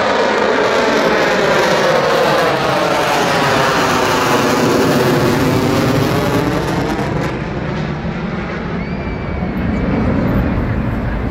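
A fighter jet at an Ayrshire airshow in Scotland roars loud and close on afterburner, a dense sustained rumble with sweeping pitch bands as the aircraft passes and climbs away, constant throughout without speech.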